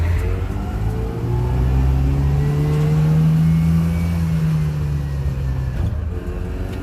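A Subaru 360 two-stroke van pulls away on a street, its small engine buzzing steadily and rising in pitch through the gears, close and loud throughout with no talk.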